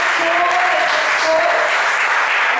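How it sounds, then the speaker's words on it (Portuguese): A church congregation breaks into applause during an evening worship service, a broad, loud wash of clapping from many people with sustained tones faintly running underneath. "Vamos dar uma salva de palmas para que Deus poderoso"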